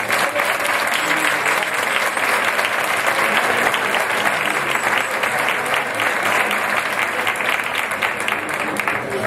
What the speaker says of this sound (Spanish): el primer aplauso que le pido a ustedes es a Miguel Ángel, por favor.